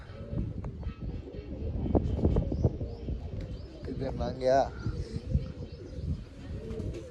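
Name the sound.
pigeons cooing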